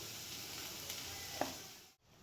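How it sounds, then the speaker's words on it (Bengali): Onion stalks and chillies fry in a pan, giving a faint, steady sizzle with a couple of small crackles before it cuts off abruptly. "পেঁয়াজ কলি লঙ্কা সব দিয়ে দিয়েছি, এক এক করে ভাজা হচ্ছে"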